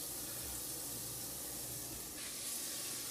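Garlic sizzles in a frying pan for lasagna sauce, a steady, faint hiss of frying that continues without pause and with no voice over it.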